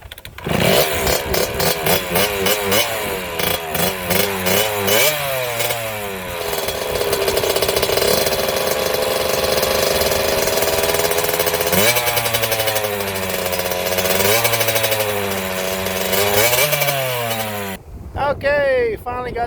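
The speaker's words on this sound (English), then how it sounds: "Okay, finally got the KX80 running there." A Kawasaki KX80 two-stroke dirt bike, newly started after a stator replacement, revs loudly and close by, its engine rising and falling in pitch through repeated throttle blips before abruptly cutting out near the end.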